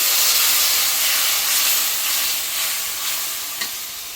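Ginger-garlic masala frying in a pan lets out a loud, steady steam hiss and sizzle right after water is poured in, close by and continuous, slowly easing off with no voices.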